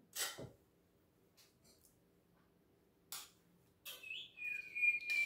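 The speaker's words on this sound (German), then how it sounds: "Vogeluhr, seid bitte ruhig." A bird clock plays its recorded bird calls in a quiet kitchen, several short chirps and one whistling, tweeting call near the end, with silent gaps between them.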